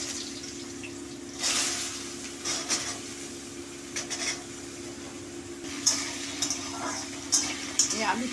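Potatoes frying in a pan with five-spice, a faint sizzle beneath a low steady hum, with scattered stirring scrapes and a few brighter clatters.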